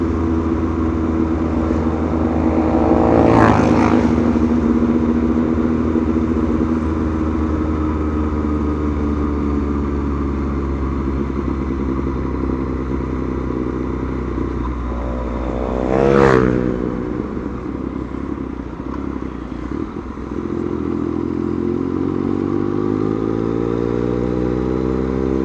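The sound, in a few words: motorcycle riding on a mountain road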